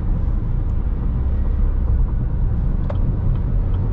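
Steady low road rumble and tire noise from a car cruising on the I-80 highway through the Omaha and Council Bluffs area, continuous and even throughout, with no talk.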